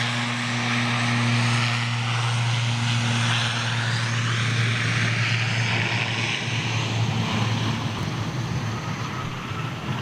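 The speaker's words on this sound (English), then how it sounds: "Listen to the pickup, the audio note as she rolls down the runway." An ATR turboprop airliner rolls down the runway with a loud, steady propeller drone, its engine note rising in pitch as it gathers speed and holding close and continuous throughout.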